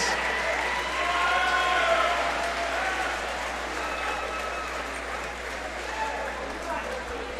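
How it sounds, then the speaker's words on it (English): A crowd in a school gym applauds the seniors at a varsity basketball senior night, a steady wash of clapping and cheering that holds at an even level throughout. "Let's give a big round of applause to all our seniors."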